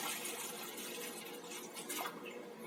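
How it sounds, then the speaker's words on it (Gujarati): Water poured from a glass into a cooking pot for lemon water, giving a steady, soft splashing trickle that runs without a break and sits close and fairly quiet. "પાણી લઈ નાખી દીધું"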